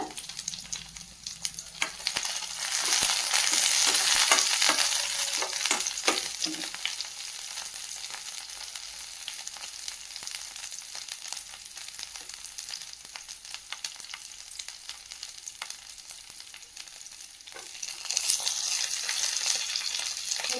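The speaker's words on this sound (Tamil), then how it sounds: "இது நல்லா லேசாக வதக்கி எடுத்துக்கோங்க." Curry leaves and coriander sizzle and crackle in a hot pan while being stirred, a steady close frying hiss that surges at the start and near the end, with occasional scraping and no voices.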